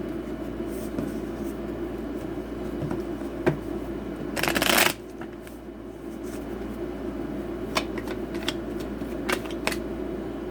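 Tarot cards are shuffled in a steady soft riffling rustle beneath a low background hum, with a brief louder burst of card flutter midway and scattered light taps.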